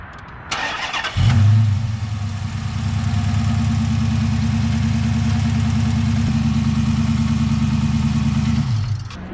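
A 2012 Chrysler 300 engine starting: a short crank, then the engine catches with a loud low burst and settles into a steady, rumbling idle that runs for several seconds before stopping.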